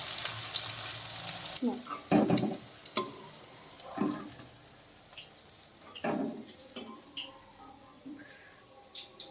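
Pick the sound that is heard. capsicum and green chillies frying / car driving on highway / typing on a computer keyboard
capsicum and green chillies frying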